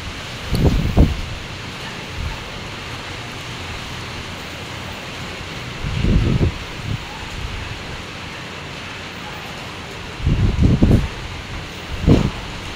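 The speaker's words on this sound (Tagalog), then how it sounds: "malakas na po ang ulan at hangin." Typhoon Uwan brings steady rain and strong wind, a constant broad roar with several louder gusts or rustling surges. No one speaks.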